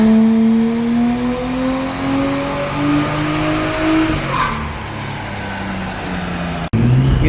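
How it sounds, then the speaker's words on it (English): A Nissan R33 Skyline fitted with a cheap turbo revs hard on a dyno, its engine note climbing steadily in pitch through a long, loud pull before cutting off abruptly near the end. "That was just a terrible dyno run."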